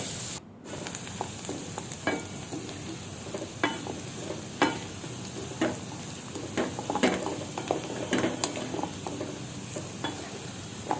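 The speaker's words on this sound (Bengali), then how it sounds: "নাড়তে নাড়তে যখন ব্রাউন কালার হয়ে যাবে" Food stirring in a hot frying pan, cooked until brown: a steady sizzle under repeated scrapes and clicks of the spoon against the pan, close and continuous, with no talk.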